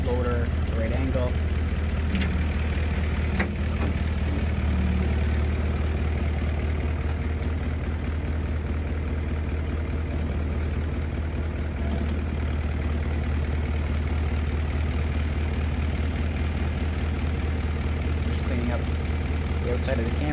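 A tractor loader's diesel engine runs steadily while it grades and widens a driveway with its blade, giving a constant low rumble that holds at an even level throughout, close by, with no clear talking over it.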